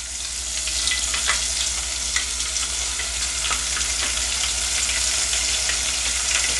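Pieces of conch frying in hot oil in a pot, a steady dense sizzle and crackle with scattered pops, close and continuous, no voices.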